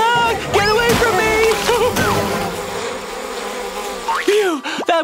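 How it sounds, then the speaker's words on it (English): Cartoon bees swarm in a loud, close buzzing drone with rising and falling whines, interrupted by splashy sound effects and short animated cries. "Where are all these bees coming from?"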